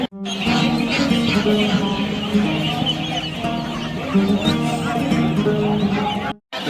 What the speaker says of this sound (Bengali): এই পুরোটা এখানে হাঁস মুরগির মার্কেট